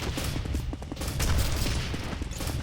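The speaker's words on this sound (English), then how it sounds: "Grenade being spammed around here by Cypher." Grenades spammed in a Quake 4 tournament match, a dense, continuous barrage of rapid explosive thuds and crackling blasts filling the whole short stretch at high volume.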